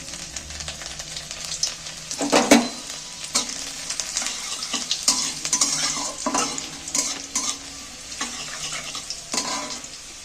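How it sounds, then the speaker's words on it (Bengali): Chopped garlic sizzles in hot oil with cumin seeds for dal palong. A spoon stirs and scrapes the pan repeatedly, making a busy, uneven crackle with sharp clinks close by, and no one speaks. "রসুন কুচানোগুলো তুলে দিচ্ছি তেলের মধ্যে"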